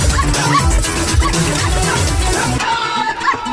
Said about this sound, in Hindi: अरे कोई बचाओ भैया, इस कुत्ते से बचाओ।